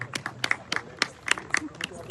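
Scattered, uneven hand claps from an audience at a government office farewell ceremony for a deputy collector in Dhrangadhra, several sharp claps ringing out over a short stretch against low background murmur.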